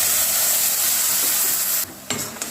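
Tomato puree sizzling and being stirred in a pan as the base of a mushroom gravy, a steady close frying hiss that cuts off sharply near the end, followed by a few brief scrapes.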